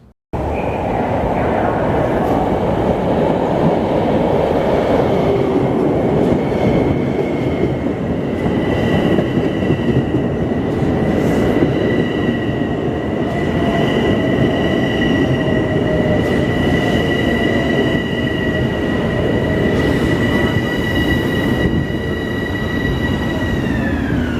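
Long Island Rail Road commuter train rolling into Mineola station, a loud steady rumble and rush of wheels on track with high metallic whines and faint squeal as it slows, continuous throughout.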